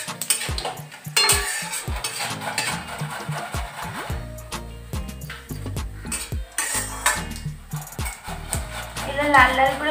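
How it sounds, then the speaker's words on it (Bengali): Bay leaf, dried red chillies and cumin seeds tempering in hot oil in a home kitchen, heard as rapid clattering of utensils and pan knocks over a faint sizzle, busy and close. "একটা তেজপাতা দিলাম, দুটো শুকনো লঙ্কা, আর একটু জিরে ফোড়ন দেব।"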